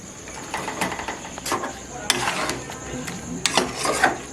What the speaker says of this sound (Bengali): ভাজা মাংসটা এর মধ্যে দিয়ে দেবো, দিয়ে আরও 10 মিনিট কষিয়ে নেব